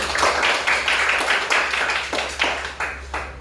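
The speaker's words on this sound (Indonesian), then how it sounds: "Kasih tepuk tangan untuk kelompok 2." A small group claps for a few seconds, with several bursts of clapping that swell and ease, fairly close and steady throughout.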